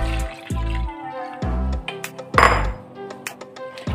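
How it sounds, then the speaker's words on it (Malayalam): Cornflour mix is poured into boiling ration lentils in a pot for kinnathappam: loud, close liquid splashes and drips with bright utensil clinks and a few dull knocks, no talking. "ഇനി ഇതാ കോൺഫ്ലോറിൻ്റെ മിക്സ് ഒഴിച്ചു കൊടുക്കാം."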